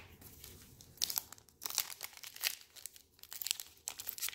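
Crisp crinkling and tearing of a foil wrapper as a 2018 Select football trading card pack is pried open, in close, irregular bursts with brief quiet gaps, fairly soft and with no talk.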